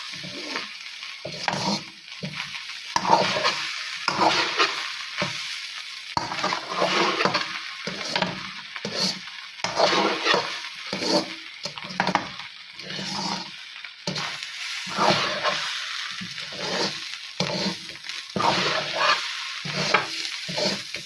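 Fried rice with soy sauce stirred in a frying pan, rhythmic scraping strokes over a continuous sizzle, close and fairly soft, repeating for about twenty seconds without talk.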